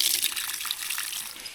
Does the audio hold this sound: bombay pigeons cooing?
no